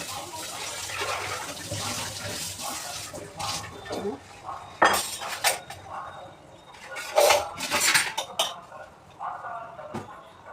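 Pots, dishes and cutlery clink and clatter as they are washed in a home kitchen sink while dal boils for lunch. Running water sits under a string of sharp, close knocks and scrapes, with the loudest bursts near the middle and end.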